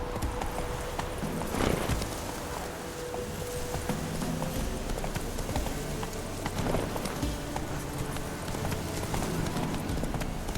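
Roach, the horse in the video game The Witcher 3, gallops with rapid, steady clip-clop hoofbeats over about ten seconds, close and fairly loud, with a brief snort or whinny along the way.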